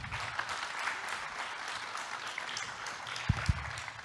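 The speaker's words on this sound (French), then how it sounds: "Merci Nathalie, on peut applaudir nos intervenants." Audience applause for conference speakers at an event on AI in innovative project development, a steady broadband wash of clapping throughout, with two brief low thumps near the end.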